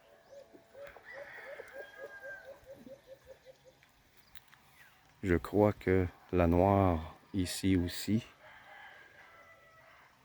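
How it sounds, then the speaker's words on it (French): Green Egger hens, birds that lay green eggs, cluck in a quick run of short repeated notes, then a loud, close rooster crow rings out in several drawn-out bursts while someone talks quietly nearby. "Des poules qui pondent des œufs verts."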